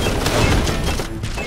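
Frag grenades going off in the video game Darkest of Days, a loud, dense burst of explosive blasts and crashing gunfire-like noise filling the whole moment with no talk.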